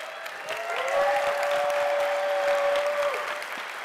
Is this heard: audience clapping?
yes